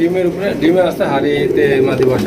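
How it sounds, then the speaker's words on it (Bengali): A pair of Indian Lotan pigeons coo in repeated soft, throaty rolls, close by and steady throughout, with someone talking over them. "এখানে রয়েছে একজোড়া নোটন কবুতর দেখতে পাচ্ছেন"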